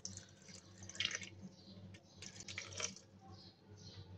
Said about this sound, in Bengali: এবার দিয়ে দিব ঠান্ডা পানি।